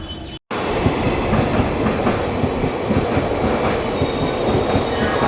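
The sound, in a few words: train arriving at station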